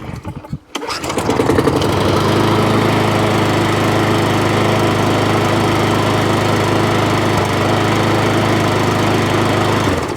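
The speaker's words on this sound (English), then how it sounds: "It'd be a cheap little mower for someone." Cheap Tesco lawn mower petrol engine pulled into life after a brief rattle, then running steadily at a loud, even drone close by.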